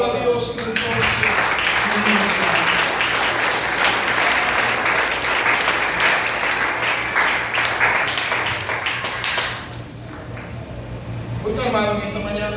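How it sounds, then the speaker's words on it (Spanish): A church congregation applauds God during a Spanish-language Sunday service, loud sustained clapping from many hands that fades toward the end, with a voice speaking over it at the close. "Aplauda a Dios entonces"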